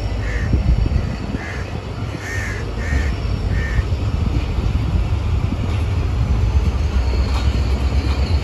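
The Mehran Express rumbles through Landhi railway station, a loud steady rolling roar of wheels and carriages, while a crow caws several times overhead early on.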